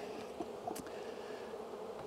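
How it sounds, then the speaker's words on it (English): A dense, steady buzz of agitated honeybees hums throughout during an opened-hive inspection, many bees swarming close by, with a brief higher hiss near the middle. "I hear bees getting angry with me."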